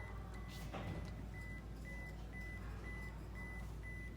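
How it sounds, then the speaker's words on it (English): A camera self-timer chirps a series of short, evenly spaced electronic beeps softly over a low background hum, about two per second. "And then the little beeps will go off."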